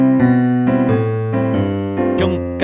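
Piano chords played in a bouncing shuffle rhythm, a long-short galloping pattern of low bass and upper chord hits, loud and close with no voices.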